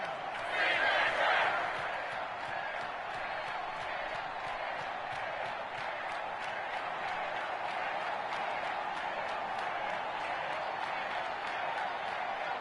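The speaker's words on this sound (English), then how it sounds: "the crowd is ready for action" Stadium crowd noise in the Madden 21 football video game, a steady roar of applause and cheering that swells briefly at the start, then holds a constant, dense wash throughout.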